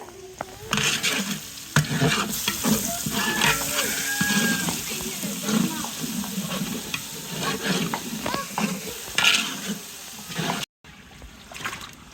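Meat and spices fry in a pot while being stirred, a steady loud sizzle broken by scraping strokes for several seconds, with faint talk in the background.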